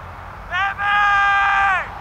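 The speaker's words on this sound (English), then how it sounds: "Yell as loud as you can and release some stress!" A person yells long and loud to release stress, one sustained shout that breaks briefly and then holds for over a second before trailing off, close and far louder than the quiet background.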